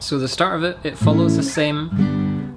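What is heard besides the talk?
No everyday noises stand out.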